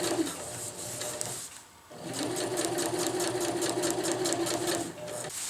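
Sewing machine stitching fabric for a winter tarp ridgeline, a steady mechanical whir with rapid needle clatter, pausing briefly near two seconds before running on continuously, close and fairly loud.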